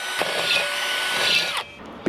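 A power tool whirs steadily, cleaning up the bolt holes of an SSR SP1 wheel, a sustained close grinding whine that cuts off near the end before a brief burst returns.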